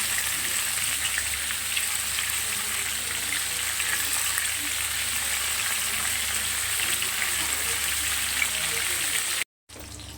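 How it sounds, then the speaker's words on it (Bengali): Cauliflower fries in a pan until well browned, making a continuous, even hiss of oil that runs nearly the whole time before a brief dropout near the end. "ফুলকপিটা খুব ভালো করে ভেজে নেবো, বেশ লাল লাল করে।"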